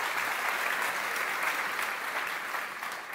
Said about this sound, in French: Un, applaudissement pour elles aussi, s'il vous plaît.